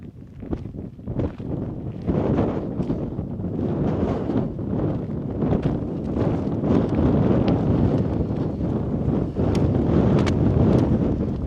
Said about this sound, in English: just a nice wee bit of wind on top